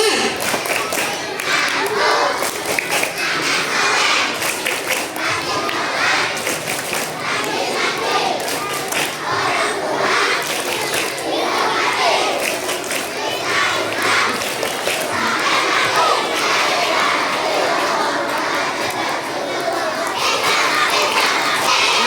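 Schoolchildren at an elementary school Isra' Mi'raj gathering perform the tepuk anak saleh clap chant, a loud, sustained mass of shouted voices and rhythmic group clapping, close and dense throughout.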